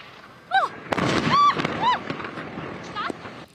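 Several sharp explosive bangs burst out in quick succession near the Syrian military headquarters in Damascus, with a voice talking over them.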